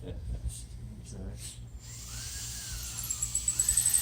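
A power drill whines steadily, its pitch rising and falling as it bores into a guitar body, growing louder and more pulsing toward the end.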